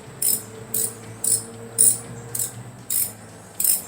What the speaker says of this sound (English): You see, it's just an 8mm little stubby ratchet.